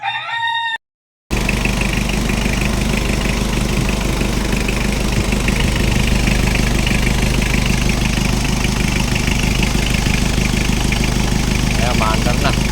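A Mitsubishi 4D56 turbo diesel engine in a Mitsubishi Adventure, newly converted to turbo, fires up after a brief gap and runs steadily with a loud, close, rough idle throughout.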